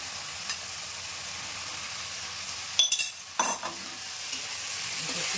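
Soyabean stir-fries in a pan with garlic and green chilli paste, a steady close sizzle running throughout, broken midway by a few sharp clinks and scrapes of a spatula against the pan.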